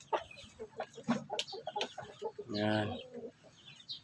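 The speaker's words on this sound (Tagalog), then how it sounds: "Yung ating Japanese Shamo Cross sa Asil. Belgian Asil yata to." Backyard chickens, Japanese Shamo crossed with Asil, in a small coop: several short clucks and calls, then a drawn-out crowing note near the middle, with someone briefly speaking over them.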